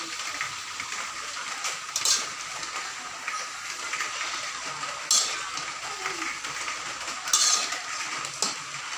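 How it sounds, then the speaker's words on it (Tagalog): Egg and vegetables stirred and flipped in a frying pan for a simple home-cooked dish, with soft continuous sizzling and a few sharp utensil scrapes and clinks against the pan at intervals, no talk. "baliktarin na natin para yung itlog naman ay mahalo"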